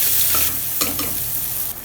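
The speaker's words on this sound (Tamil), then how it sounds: "பொடி பொடியாக நறுக்குனா வெங்காயம் சேர்த்துட்டு எல்லாத்தையும் நல்லா இந்த மாதிரி வதக்கி விட்டுக்கோங்க" Onions, garlic and dried red chillies sautéing in hot oil with mustard seeds, a steady loud sizzle with scraping stir strokes throughout, no voices.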